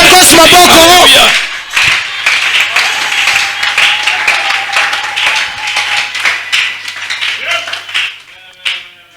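A church congregation applauding the Lord in a French-language service, a burst of clapping that swells and then fades to scattered claps, with a voice speaking over it.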